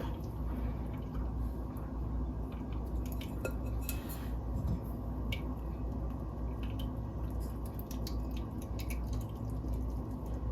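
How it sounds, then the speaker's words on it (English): Flan custard strained through a sieve, giving a soft, continuous trickle with faint drips and occasional light metallic clinks of the strainer against a bowl, close by and without talking. "Now you want to get a sieve or a strainer to strain the custard."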